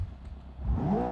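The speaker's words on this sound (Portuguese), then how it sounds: "Ó, o barulho do motor." Brief rev of a car engine from a Lightning McQueen race car mod in BeamNG.drive, manual gearbox and turbo, rising in pitch as the throttle opens, loud and close.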